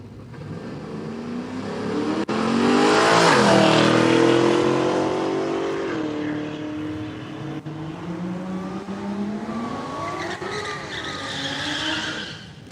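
A blue Holden HR makes a solo drag racing run, its engine roaring loud and close as it revs hard, with tyre squeal and the pitch sweeping up through the gears before the note eases and rises again.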